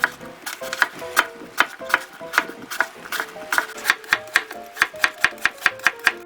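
A knife slices apple and carrot thinly on a cutting board in quick, regular strokes, with about twenty crisp, close chops in a steady rhythm and no talking.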